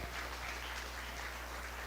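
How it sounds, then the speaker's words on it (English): Steady, distant applause fills a show ring at a county fair sheep show, a faint, even patter of clapping with no voices over it. "give these exhibitors a nice round of applause"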